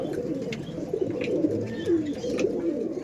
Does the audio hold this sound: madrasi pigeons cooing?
yes